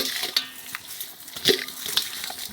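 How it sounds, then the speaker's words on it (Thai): Chicken larb with fresh lime, herbs and mint is stirred in a pan: soft scraping and clinking strokes, with a few sharper taps, over a faint steady sizzle. "คนๆให้เข้ากัน"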